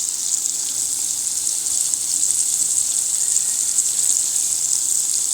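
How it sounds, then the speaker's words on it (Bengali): Chopped green chilies and onion fry in mustard oil, giving off a steady, bright sizzling hiss that stays even and fairly loud throughout, with no talking. "সরষা তেল, কাঁচামরিচ কুচি আর পেঁয়াজ কুচি হালকা ভেজে নেব।"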